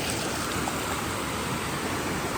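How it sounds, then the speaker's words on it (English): At Crystal Creek Falls in Whiskeytown Recreational Area, California, the waterfall gives a steady, dense rushing roar. It is loud and unbroken, with no voices over it. "this is Crystal Creek Falls"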